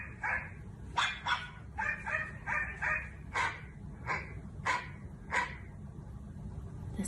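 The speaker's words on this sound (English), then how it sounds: "She found an app that supposedly translates whatever you say into dog language" A dog-language translator app plays a rapid string of short synthetic dog barks and yips, about a dozen in quick succession, loud and close, alone.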